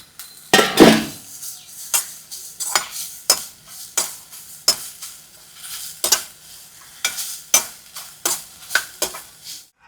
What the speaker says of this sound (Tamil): அதிலே தேங்காவையும் போட்டு வறுத்துக்கலாம்.